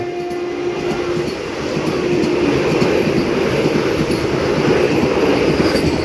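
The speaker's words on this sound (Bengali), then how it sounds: "আমাদের ট্রেন চলে আসলো" A train rolls along the rails in a loud, close, continuous roar, swelling halfway through with a rapid rhythmic clatter of wheels and no voices.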